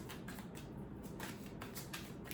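A deck of tarot cards shuffled while held upright, quiet rapid riffling and soft slaps of cards in a steady rhythm, close and faint with no voices.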